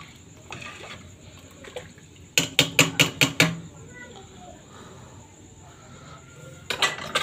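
Chai being stirred in a metal pot, a quick run of five or six sharp clinks of utensil against the pot's side, then quieter scraping and a few more clinks at the end over a faint background hum.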